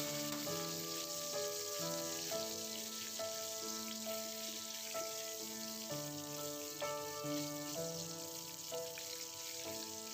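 Roughly chopped onion with crushed coriander and cumin sizzles steadily in hot oil over a medium flame while being stirred, a constant close frying hiss running under background music throughout.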